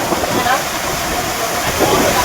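Water rushes down the Kushaloya village waterfall, a steady loud roaring wash of noise that fills the whole scene without pause.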